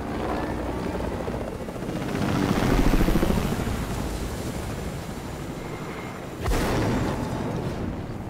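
Helicopter in Fortnite whirring loudly and continuously, swelling a little midway, with a sharp burst near the end and no talk over the steady rotor noise.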